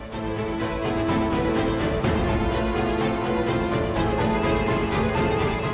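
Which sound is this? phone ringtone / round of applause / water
phone ringtone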